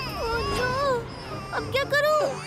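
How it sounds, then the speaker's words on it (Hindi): A cartoon soft toy gives off a baby's wailing cry, a wavering high-pitched sob voiced by an actor, followed closely by an anxious spoken line in the same animated scene. "सॉफ्ट टॉय से रोने की आवाज आई।"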